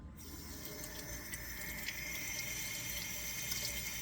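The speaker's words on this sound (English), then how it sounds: "run water through this to get the dirt out because the dirt's all in there" Tap water streams through leeks or similar vegetables being rinsed of dirt in a kitchen sink, a steady close rush with small splashing shifts and no voices.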